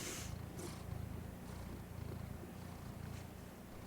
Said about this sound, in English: Buddy, keep purring.